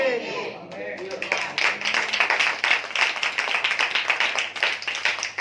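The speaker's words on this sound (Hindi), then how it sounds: "तालियां बचाकर रखिए।" Clapping from a church audience during a sermon, dense and continuous after a brief opening, with a voice heard faintly underneath.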